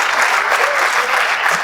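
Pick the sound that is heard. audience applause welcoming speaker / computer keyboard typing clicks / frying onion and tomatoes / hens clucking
audience applause welcoming speaker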